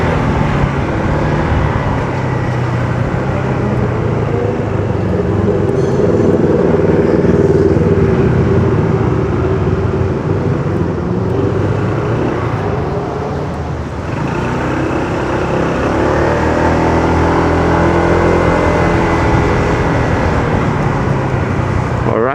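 Road traffic with a motorcycle engine droning steadily throughout, a continuous loud vehicle noise that dips briefly near the middle, with voices faintly present under it.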